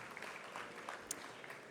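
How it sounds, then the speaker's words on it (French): A conference audience at a French real-estate event gives soft, distant applause, a faint continuous patter of clapping with no voices over it. "merci de l'accueillir sous vos applaudissements"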